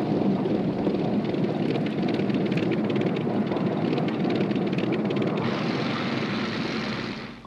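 Propeller aircraft on tactical bombing missions over occupied France in 1944, flown by French pilots of the Lorraine group, give a continuous droning engine roar with a rough pulsing texture. The roar stays steady, then thins and fades near the end.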